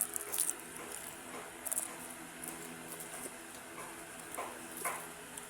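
Someone bites into crunchy turon malagkit, a fried banana and sticky rice roll, and the bites come through as soft, close crunches and moist chewing with faint background noise and no talking.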